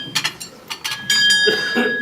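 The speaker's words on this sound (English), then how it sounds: "it was a servant's bell to call them to lunch" Old servant's bell from a large homestead, once rung to call workers to meals, struck several times in quick succession, bright ringing tones that sustain and overlap near the end.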